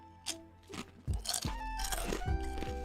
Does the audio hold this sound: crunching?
yes